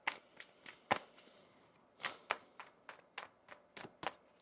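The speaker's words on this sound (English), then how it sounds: "One more shuffle here." A tarot deck being shuffled by hand: a quiet series of quick, crisp card slaps and riffles, about a dozen in irregular rhythm, with no talking.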